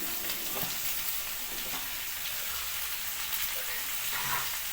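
Bitter gourd, potato, eggplant and tomato fry in a pan with onion, giving a dense, steady sizzle close up, with a few faint stirring scrapes.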